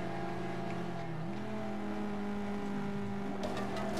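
Engine roar of a car drifting in the racing game FlatOut: Ultimate Carnage, a steady loud revving drone throughout with a brief rising pitch shift and some scraping near the end.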